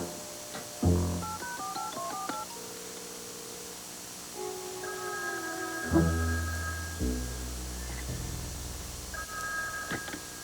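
A telephone is dialed with a quick run of stepped, beeping keypad tones, followed by a few longer steady tones with clunks in between. The sounds are fairly quiet and close, and no one speaks.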